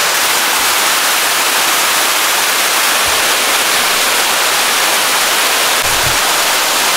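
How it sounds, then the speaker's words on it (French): Steady, loud rushing water filling the whole clip, a constant roar of a nearby waterfall on a Mauritius hiking trail, with no voices. "Elle est pas magnifique la cascade"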